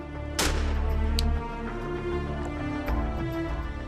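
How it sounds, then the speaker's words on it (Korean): A gunshot fired during a wild boar hunt near a village, one loud sharp report echoing and rumbling away, followed by a fainter second crack later on. "총성이 들린다"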